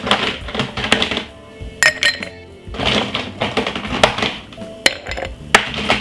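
Ice cubes clink and clatter into a glass in several bursts for a beetroot juice drink, sharp close knocks and rattles with brief pauses between handfuls.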